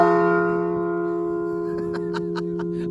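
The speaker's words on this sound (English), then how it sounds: "Let's do one more ring of the bell." A 1972 Liberty Bell replica at Woodlawn Cemetery in Gotha, Florida, rings out once at the start, then a long steady metallic hum sustains and slowly fades, with laughter and chatter breaking in near the end.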